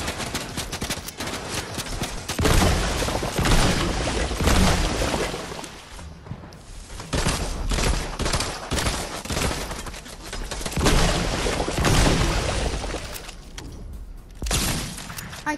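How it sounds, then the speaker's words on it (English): Heavy gunfire in the Fortnite video game: loud, rapid volleys of shots and fusillades with brief lulls between bursts and some breaking impacts. "Oh, they're shooting."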